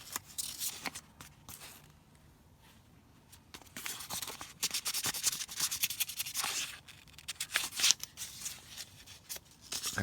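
Fine sandpaper rubbing a furnace flame sensor, a dry scratchy scraping in irregular close strokes that fade to a quiet stretch midway, then pick up again with a few sharper scuffs and clicks toward the end.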